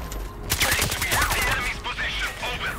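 Rapid gunfire in a video game shooter, sharp overlapping shots in quick bursts, loud and close, with a voice talking over the action.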